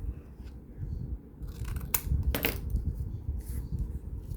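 Scissors cut through manila-backed paper for a specimen card with a few quiet snips and crisp crunches, close but faint over a low background hum.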